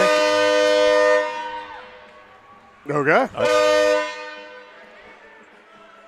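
Horn of a train passing near a junior varsity hockey rink during a game, a loud sustained multi-tone blast that drops away, pauses, then sounds again, with a brief spoken exchange in the gap.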